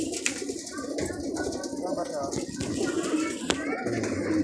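Racing pigeons coo steadily near a crowded loft during a first training toss from Calamba, Laguna, while children play and people talk in the background.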